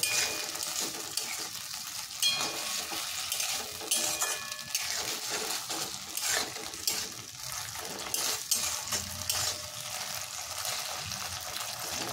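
Chilli chicken being stirred with sauces in a pan, a steady sizzle of frying with scraping spoon-against-pan movements and occasional clinks of utensils, continuous and fairly close, with no talking.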